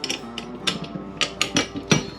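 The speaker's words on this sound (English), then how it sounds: "I go with my 10mm wrench and I break loose all these bolts on the back side." A 10mm wrench breaks loose a series of bolts on the back of Hawk Helium climbing sticks, giving sharp metallic clicks and knocks that come in an irregular rhythm, close and fairly loud.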